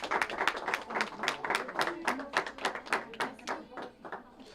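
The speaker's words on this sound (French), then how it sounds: "Donc on peut applaudir, applaudissez." An audience at a fashion show for designer clothing applauds steadily, many hands clapping in a dense, lively rhythm that fades toward the end, with faint talk underneath.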